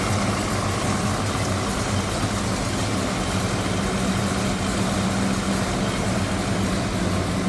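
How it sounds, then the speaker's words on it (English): A 1955 Chevrolet Bel Air V8 with headers and dual Edelbrock four-barrel carburetors idles low behind the car, a steady, dense exhaust rumble that stays constant and loud without any talking. "if you'd like to hear it from behind on the low idle, let you hear this nice rumble"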